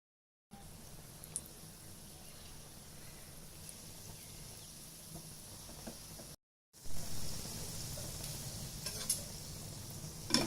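Gulab jamun fry and are turned in a pan of hot oil, making a soft, steady sizzle with faint utensil clicks and a short break partway through.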